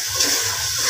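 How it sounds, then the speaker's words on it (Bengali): Water is poured into a hot pan of ground spices while cooking a pahari-style dish, a brief, steady rushing splash lasting about a second, close and fairly loud. "ওয়াটার দিয়ে দিলাম।"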